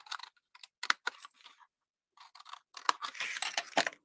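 Scissors snip through paper to cut out a shape, giving close, crisp bursts of cutting in two clusters separated by a short pause.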